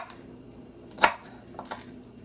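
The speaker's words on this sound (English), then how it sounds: "You can shred it, but I'm just gonna chop it." A knife chops cabbage for borscht on a board, one sharp close cut followed by a couple of softer strokes in a quiet room.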